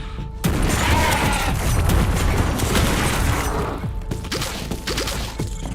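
Heavy gunfire from a powerful weapon in the VISCERAFEST video game, a dense, loud barrage of blasts and crashing impacts that runs almost without a break from the first half-second onward.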